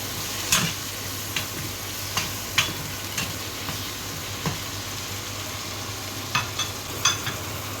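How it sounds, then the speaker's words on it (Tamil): Tomatoes fry in a pan for a curry, giving a soft continuous sizzle. A spoon scrapes and taps the pan in scattered sharp clicks, and no one speaks. "தக்காளி போட்டுட்டு கொஞ்சம் நல்லா ஃப்ரை பண்ணுங்கள்"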